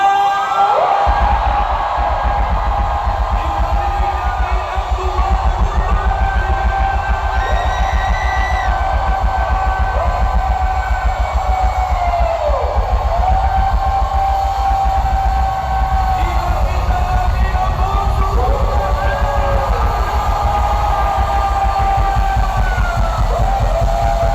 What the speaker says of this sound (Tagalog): Isa pang nakabibiging sigaw!